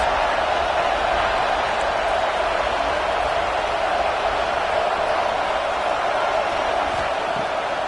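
A stadium crowd roars on third down in a college football video game against Nebraska, a dense, steady wash of cheering that holds loud and even throughout.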